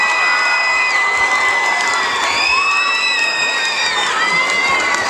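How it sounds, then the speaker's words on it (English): A large crowd cheers and whoops loudly and continuously, with shrill shouts and high voices rising above a steady roar for several seconds. "Nice big round of applause."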